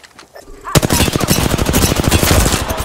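Rapid automatic gunfire in the Apex Legends video game bursts in loud and close after a quiet moment, then continues as a dense, steady stream of shots.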